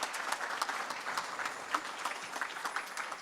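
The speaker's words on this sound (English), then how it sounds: "let's give them a round of applause." A standing congregation at a Unitarian Christmas pageant worship service gives a brief round of applause, soft and moderately distant, evenly sustained.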